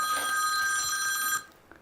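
An old telephone bell rings loud and close in a sustained shrill burst that stops abruptly, followed by a faint click.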